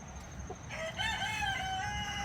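A Cornish cross American Bresse rooster crowing once, a long rising then sustained call with strong harmonics, close and clear over soft background clucking.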